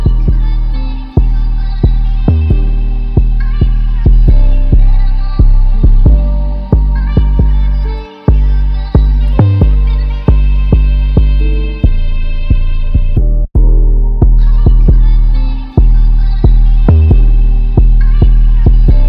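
Deep 808 bass run through an Ableton Glue Compressor on the bass punch preset, thumping loudly in a steady repeating pattern of booming, sustained notes with a brief dropout near the end, alone with no talking.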